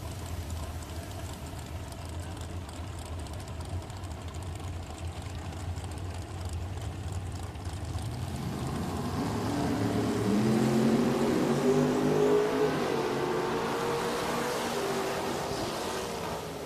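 A '66 Chevelle and a Daytona on a drag run at Richmond Dragway: a low rumble holds for several seconds, then the engines swell into a louder, rising roar that fades slightly near the end, heard from a distance.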